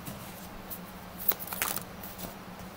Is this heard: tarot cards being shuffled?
yes